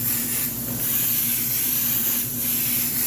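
Stylmer primer hisses steadily from an aerosol spray can onto a resin model kit, a loud, continuous spray with slight pulsing.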